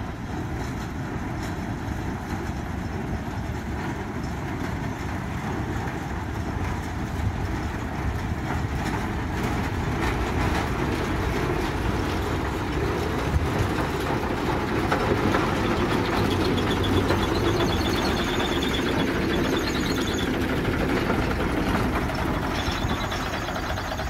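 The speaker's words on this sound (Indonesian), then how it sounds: "Kita lihat nomor berapa lokomotif yang menarik rangkaian lori kosong selanjutnya." A Kyosan Kogyo locomotive hauls a train of empty sugarcane lorries, its steady engine drone and rolling rumble continuing for the whole stretch, moderately distant and without speech.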